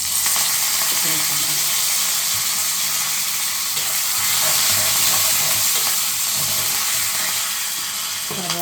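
Curry leaves sizzle in hot tempering oil for a brinjal pulusu, giving a steady, close, broadband crackle that holds evenly throughout with no clear talk.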